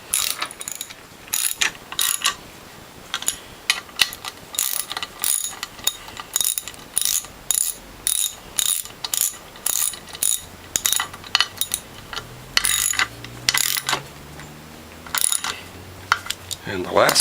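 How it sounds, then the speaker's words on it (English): A hydraulic reservoir being tightened on a WHF/Norwalk juicer gives off a long run of sharp, evenly paced ratcheting clicks, close and fairly loud, with a low grinding mechanical rasp coming in near the end. "And then I'm going to tighten the hydraulic reservoir."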